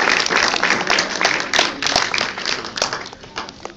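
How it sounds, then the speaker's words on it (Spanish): Audience at a magic show applauding a volunteer named Victoria, a dense, steady wash of clapping from a crowd with a few sharper claps standing out, carrying on loudly throughout. "Le damos un fuerte aplauso a Victoria, por favor."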